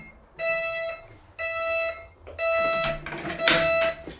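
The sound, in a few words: building door alarm sounding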